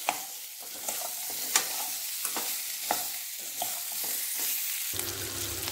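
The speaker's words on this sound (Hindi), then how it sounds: "ये देखिए बीच बीच में हम इसको चला रहे हैं, उस तरीके से ये सिकते जा रहे हैं।" Baby potatoes fry over high heat in a pan and are stirred now and then, giving a steady sizzle broken by scraping stirs at regular intervals, close up with no voices.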